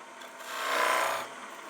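A gouge cuts a wooden spindle on a Shopsmith lathe, giving a steady close rasping hiss that swells over the middle second and eases off again, with no talk.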